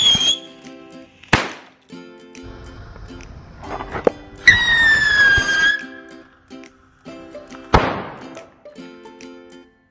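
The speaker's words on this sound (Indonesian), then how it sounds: "Saya mencoba eksperimen menggunakan mercon tikusan." Spinning ground firecrackers (mercon tikus) set off with Hot Wheels toy cars fire several sharp, loud bangs spaced a few seconds apart, with a rising whistle and a hissing fizz between blasts.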